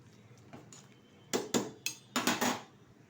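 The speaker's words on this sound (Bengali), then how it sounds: "এটাও দেওয়ার পর একটু নাড়িয়ে নেব।" Khichuri with cumin powder and spices being stirred in a cooking pot, a few scattered clinks and scrapes of a spoon against metal, sharp and close, separated by quiet pauses.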